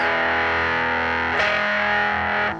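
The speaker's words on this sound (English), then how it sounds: "He'd put like a tube screamer through it or something." Electric guitar driven through a Tube Screamer overdrive pedal: a loud, sustained distorted chord ringing out, briefly re-struck midway, then fading at the end, with no talking.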